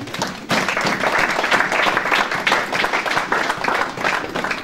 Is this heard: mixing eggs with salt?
no